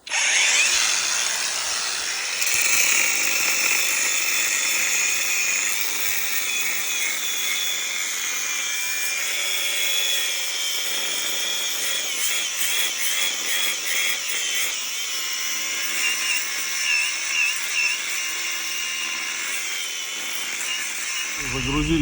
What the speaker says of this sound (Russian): Пилим, работаем.